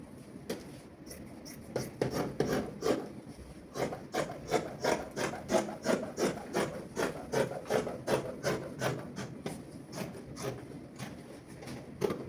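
Scissors cutting fabric for Christmas pyjamas, a steady series of close rhythmic snips and rasping strokes against a wooden work surface, continuing throughout with no talk.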